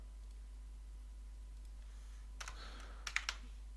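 Computer keys are pressed for Photoshop shortcuts, a few faint separate clicks and taps in the second half of the clip after a quiet stretch, with a steady low hum underneath.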